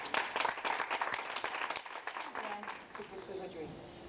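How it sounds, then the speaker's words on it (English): Audience applause after a Puerto Rican artist is honored, a burst of dense clapping from a crowd that starts strong and thins gradually over several seconds, heard fairly close with a voice talking underneath. "So why don't we give her another applause?"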